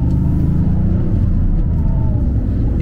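Toyota Yaris GR three-cylinder engine with an Akrapovic exhaust, a close, loud, low rumbling drone held steady for a few seconds, likely heard from inside the car while driving.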